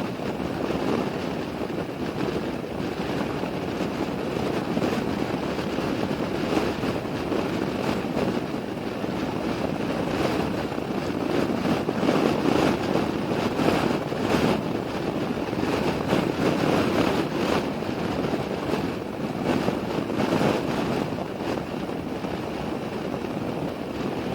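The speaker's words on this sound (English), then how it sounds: "The wind is extremely heavy." Heavy prairie wind buffets a Suzuki V-Strom motorcycle on the move, a dense, continuous roar of wind noise on the microphone, rumbling low and steady with no speech.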